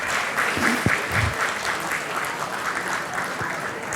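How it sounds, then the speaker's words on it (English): Steady applause from an audience at a community annual day program, continuous clapping at even strength for the whole stretch. "Give a big round of applause for Suha and Sangeeta."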